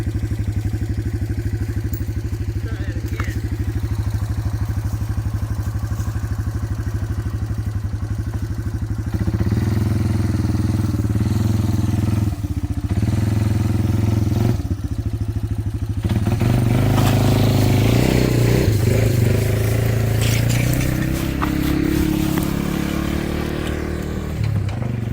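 A four-wheeler ATV engine runs continuously while pulling a sofa out of a dumping ground, a steady low idle that grows louder and rougher around the midpoint as it revs and strains, with clattering debris, no talking.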